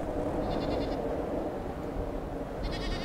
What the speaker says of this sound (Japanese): 空腹なヤギ。